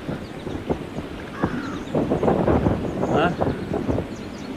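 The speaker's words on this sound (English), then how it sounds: "Oh, this wind's incredible." Strong, blustery wind buffets the microphone beside water while trout fishing, a loud rumbling roar that rises and falls, with someone briefly speaking over it.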